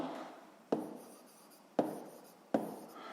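A pen writes numbers by hand on paper for a sixth-grade maths exercise, giving three sharp, evenly spaced strokes over a soft, quiet scratching.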